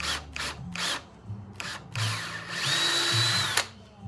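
A power drill bores a barrel pin hole in a wall gun, revving in several short bursts and then one longer steady whine before stopping abruptly.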